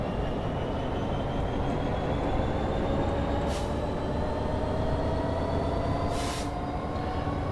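A Powerhaul Class 66 diesel locomotive hauling a long container freight train rumbles steadily over a crossover in Train Sim 2020, with a constant low engine drone, rising tonal whine and two brief hissing bursts.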